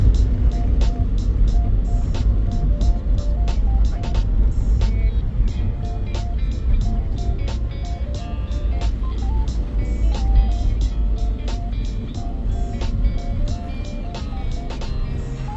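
Rental car driving on a road in Hokkaido, Japan, a steady interior road rumble with engine hum and tyre noise, broken by repeated sharp clicks, with no talking.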